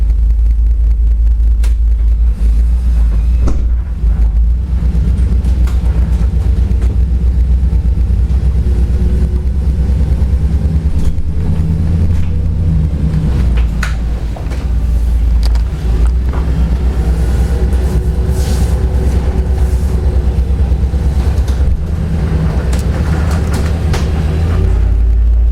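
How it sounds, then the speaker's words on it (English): Car driving, heard from inside the vehicle: a loud, constant low rumble of engine and road with wind buffeting and small rattles throughout, no talking. "we're in the vehicle right now"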